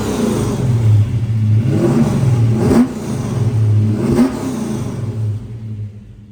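A restored 1971 Chevrolet Chevelle engine runs close by with a deep steady idle, broken by two sharp throttle blips before it settles lower toward the end.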